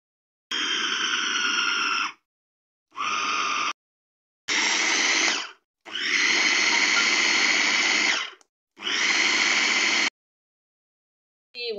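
An electric mixer whirs through eggless chocolate cake batter in repeated loud bursts of several seconds each, separated by short silent pauses.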